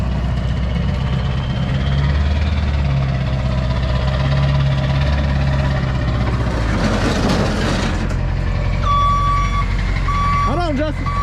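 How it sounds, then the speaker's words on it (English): Tow truck backup beeps repeat at a steady rhythm near the end, over a low idling engine rumble and nearby background noise, while people talk close by. "got a tow truck. Let me get out the way because this is trying to come in."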